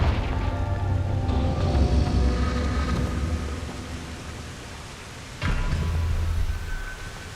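A Confringo blasting spell in Hogwarts Legacy erupts in a loud, rumbling explosion that slowly decays, followed by a second sharp blast near the end, with no voices.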